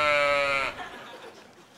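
A sheep bleating on the Faroe Islands, one loud sustained bleat near the mic that cuts off abruptly, followed by quiet outdoor ambience.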